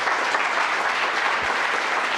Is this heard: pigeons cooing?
no